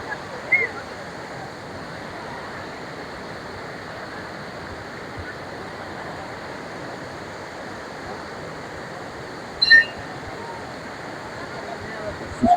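A steady, broad rush of falling water from the spring-fed waterfall at the Vashistha ashram in Guwahati, where people are bathing, fills the scene evenly, with a few brief faint sounds popping up over it.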